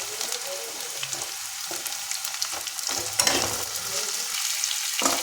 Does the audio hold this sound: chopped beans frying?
yes